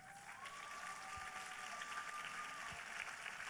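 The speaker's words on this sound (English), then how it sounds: "How about one more round of applause" Applause from the audience at a Mrs. International pageant finals, a broad, fairly faint wash of clapping heard from a distance, with a sustained tone running underneath.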